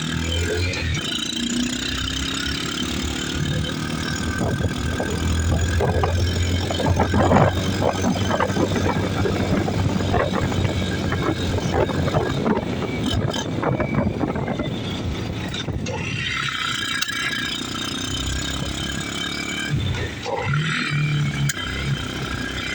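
2021 Kayo 150 Storm ATV engine running with a carburetor that pops, giving a close, loud rumbling idle and revving with irregular small pops, the engine note shifting partway through amid outdoor wind noise.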